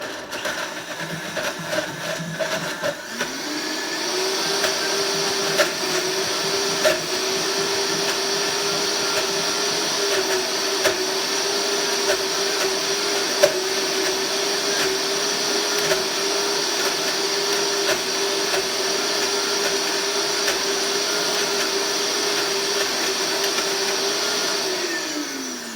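A blender runs for over twenty seconds making persimmon ice cream, a loud steady motor whine that spins up after a brief start and winds down at the end, with no talking.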